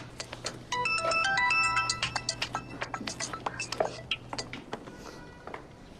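A phone ringtone plays a bright melodic chime for an incoming call indoors, followed by rapid clicking taps and faint speech.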